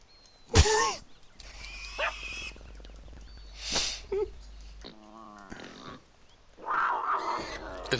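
A tiger in GTA Online lets out rough growls and snarling roars in short bursts, mixed with other animal noises and game sounds.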